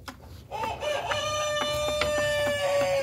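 Egg-laying chickens of a green-egg breed cluck and squawk close by in short repeated calls, with one drawn-out crowing note over a low background hum.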